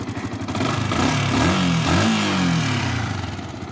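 A Yamaha R15 motorcycle engine fires up and runs steadily, a loud close rumble with rising and falling revs throughout, no talking over it.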